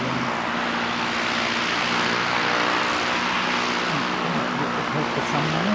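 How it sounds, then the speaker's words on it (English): An ATR turboprop airliner at Canterbury airport roars steadily nearby, its propeller drone thick and continuous with a slowly shifting engine tone throughout. "Here's the ATR that we missed while we were concentrating on Quantas"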